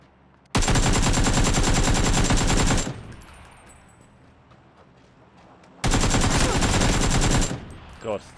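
Automatic gunfire in the PUBG video game, two long sustained bursts of rapid, loud shots separated by a few seconds of quieter background.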